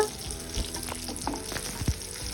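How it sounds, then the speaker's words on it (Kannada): Semolina and rava-coated fish shallow-frying in a pan gives a steady close sizzle with a few soft clinks and stirring bumps, no voices. "ಫುಲ್ ಸಣ್ಣ ಇಟ್ಕೊಂಡ ಫ್ರೈ ಮಾಡಬೇಕ್ರಿ"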